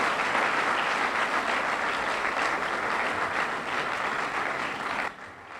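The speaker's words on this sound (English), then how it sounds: "You can do better than that if you're clapping for Right Honorable Yakubu Dogara" Steady applause from a crowd after a keynote speech in Nigeria, dense and continuous, then suddenly dropping to a quieter tail near the end.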